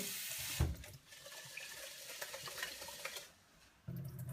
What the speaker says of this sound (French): un petit rinçage pour le brocoli